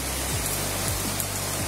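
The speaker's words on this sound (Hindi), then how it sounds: "और बाहर बहुत अच्छा बारिश हो रहा है" Steady rain falls outdoors while spray-paint coloring goes on indoors, a dense continuous hiss with a few faint low hums sliding through it, no voices present.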